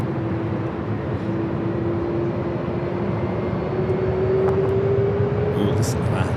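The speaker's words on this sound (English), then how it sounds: "This is Delta 979 taking off to JFK." A Delta heavy jet airliner takes off from LAX, a loud continuous engine roar with a steady rising whine, and radio chatter mixed in.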